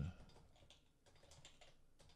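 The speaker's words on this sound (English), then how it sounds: "Wow, so much typing." Rapid typing on a computer keyboard during coding, with a steady patter of close, fairly quiet key clicks running for about two seconds.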